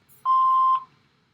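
An answering machine gives a single clean electronic beep after its voicemail greeting, a steady tone lasting about half a second and then silence.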